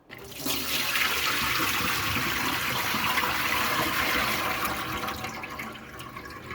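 Water drains out of a tub after a ham has soaked in it, a loud continuous gurgling rush close by that runs the whole time and eases off slightly near the end.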